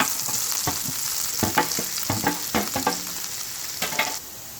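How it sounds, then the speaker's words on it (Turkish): Chopped mushrooms sizzle and crackle in a hot frying pan, with repeated scraping stirs breaking through the steady frying hiss, close up. "Mantarlarımız ölene kadar tavamıza soteliyoruz."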